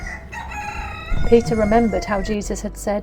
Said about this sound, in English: Then he heard a rooster crow.